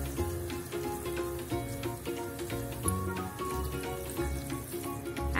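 Masalas frying over a low flame in hot oil for egg biryani, a steady close sizzle with light stirring clicks and scrapes running throughout, no voices.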